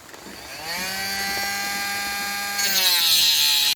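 A power tool cuts through a rubber CV boot near a reluctor ring, a steady high-pitched whine held for several seconds close by, rising brighter toward the end before stopping abruptly.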